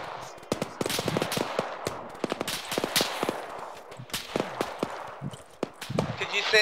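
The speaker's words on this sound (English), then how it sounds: "taking fire from the south" Rapid gunfire crackles throughout a firefight in the military game Arma, with dense bursts of close and distant shots in an irregular, overlapping rhythm, and some radio chatter underneath.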